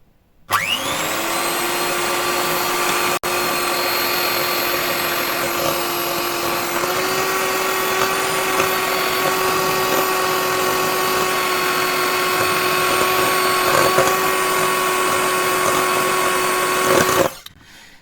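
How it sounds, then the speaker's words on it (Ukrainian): An electric hand mixer whips gelatin icing for Easter bread, starting abruptly and holding a loud, steady motor whine close by for about sixteen seconds before switching off. "далі беремо міксер і починаємо взбивати"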